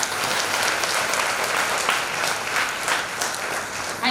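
Applause from a workshop audience at a women's empowerment event in Raipur, a dense, steady clapping that fills the room for about four seconds at even loudness.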